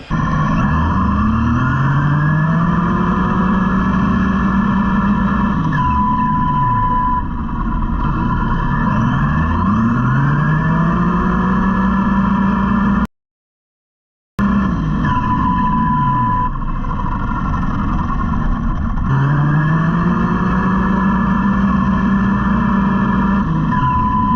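A ZD Racing TC8 RC car races alongside another RC car, its electric motor whining loudly and steadily, with rising and falling pitch sweeps as the cars speed past and turn, interrupted once by a brief dropout.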